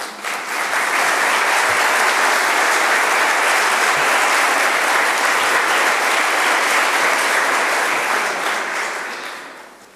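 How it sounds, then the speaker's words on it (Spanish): Audience applause at a 40th-anniversary gala of the Valencia hospitality federation, welcoming the federation president. Steady, dense clapping from a large crowd fills the room, swelling in quickly and holding at full strength before fading away near the end. "Un aplauso para él, por favor"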